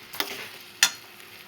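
Chana dal curry stirred in a pan makes two quick scraping strokes over a soft, steady sizzle with no talking.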